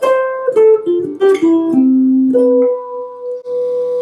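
A guitar plays a short melodic line of several ringing notes that step downward and settle on a held major sixth voicing with B on top, played alone and clearly.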